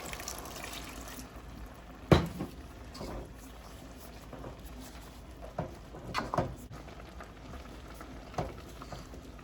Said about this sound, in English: If it's still hard to press it, so you need to add more water. So I will add more water.